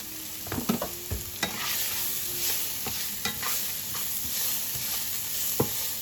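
Onions sizzle in a pan while they cook until translucent. The frying hiss is steady and close, and several sharp clinks and scrapes from stirring cut through it.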